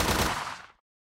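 A short burst of rapid automatic rifle fire in a video game, loud and dense, cutting off abruptly into silence after under a second.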